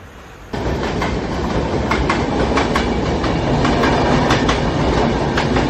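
Passenger train running on rails on a route toward Khed in the Konkan, heard from on board: a steady loud rumble with rhythmic clickety-clack wheel beats and occasional squeal, starting abruptly after a brief quieter moment and continuing without talk.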